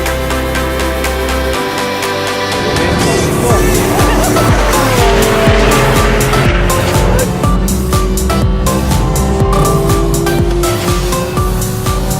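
A new Porsche GT3 on a race circuit roars hard at close range, its engine note climbing and holding loud while the tires squeal through corners for the whole stretch.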